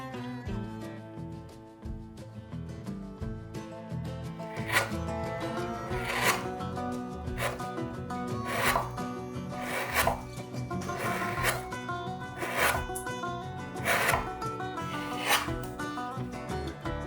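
Wooden rooster head being carved, the comb and head roughed out with downward cuts: a steady series of close, rasping strokes repeating every second or so over a faint background tone.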